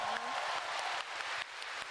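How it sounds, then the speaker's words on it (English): Audience cheering and clapping at the FFXIV Fan Festival Europe keynote, a steady wash of crowd applause with a voice speaking over it, brief and moderately loud. "Everyone's cheering, they agree with me."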